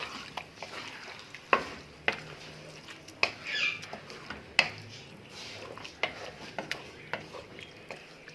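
Chicken pieces and drumsticks being mixed with yogurt in a pot, with repeated soft scraping and clacking of a utensil against the pot in an uneven rhythm, fairly quiet and close.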